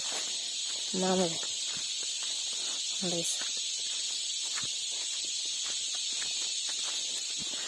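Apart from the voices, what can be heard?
crickets chirping in the background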